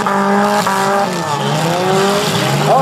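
Figure 8 race cars, front- and rear-wheel drive, racing on a mud track, engines revving loudly with shifting pitch as they accelerate and slide, a continuous close roar with brief tire-squeal swells.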